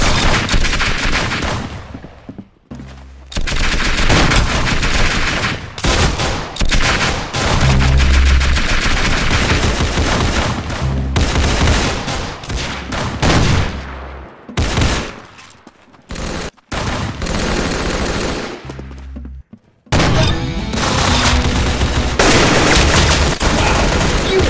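Rapid gunfire from the Roblox game Arsenal crackles in dense, loud bursts and automatic volleys broken by brief quiet gaps, with excited voices heard faintly among the shots.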